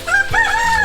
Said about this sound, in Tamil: அந்த நம்ம வந்து நம்ம பின்னாடியே வந்து சத்தம் போட்டு நிற்குது அந்த கோழி.